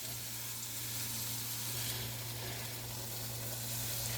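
Garlic and onions sautéing in a Power XL StirMax multi-cooker while beef stew is being prepared, producing a soft, continuous hiss at low volume with a steady hum underneath.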